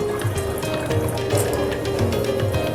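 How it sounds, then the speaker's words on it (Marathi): Water splashes and trickles steadily into a bowl of puran poli dough, a continuous wet pouring sound with faint soft thuds underneath. "आता मी पाणी त्याच्यात ॲड करणार आहे"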